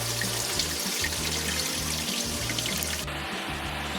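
Water rushes steadily through an RV hookup at a state recreation area campsite, a constant hissing flow with a low rhythmic gurgle underneath, close and unbroken.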